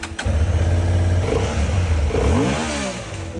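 A motorcycle engine idling loudly up close, then revving as the rider pulls away, its pitch rising and then tapering off.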